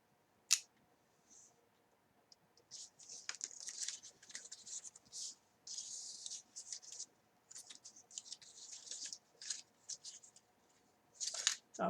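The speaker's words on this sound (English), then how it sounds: "I'm going to have to cut them individual." Scissors snip through sticky-backed adhesive pieces one at a time, a run of close, crisp cuts with short pauses between them, a sharp click at the start and end.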